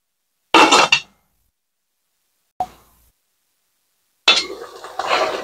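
Lid going onto a cooking pot of chicken adobo, a loud metallic clatter, a short clink a moment later, then another rattling clank as it settles, close up with silence between and no talk.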